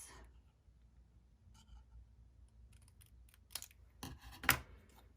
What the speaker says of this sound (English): Just going to fussy cut this.